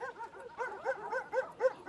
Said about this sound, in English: he heard the sound of loud barking.